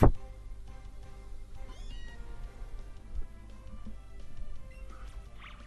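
Meowth gives its cat-like cry in Pokémon Let's Go Eevee: a clear, close synthesized meow that stands out at the start, then lingers over soft, steady game music.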